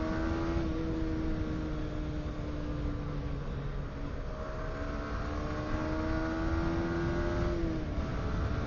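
A 125cc motorcycle engine hums and revs continuously at close range, its tone rising and falling slightly over a steady exhaust drone.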